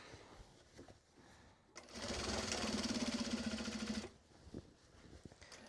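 A sewing machine runs in a single burst of about two seconds, a rapid mechanical whir as it top stitches penguin-print Japanese fabric, with faint room sounds before and after.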